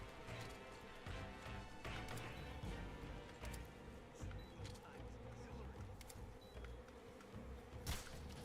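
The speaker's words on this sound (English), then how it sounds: "Bees be upon you." A buzzing swarm of bees in the Metal Gear Solid Delta video game, a steady insect drone with scattered clicks and impacts layered over game noise and a continuous low rumble, with a voice speaking over it.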